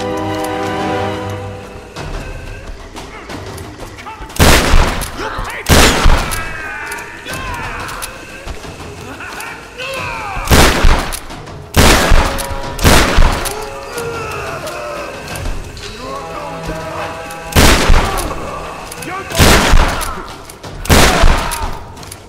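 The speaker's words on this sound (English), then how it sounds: "Shotguns, man." Shotgun blasts in the video game Tomb Raider: loud, booming single shots spaced a few seconds apart, sometimes in close pairs, over a rumbling backdrop of in-game noise and effects.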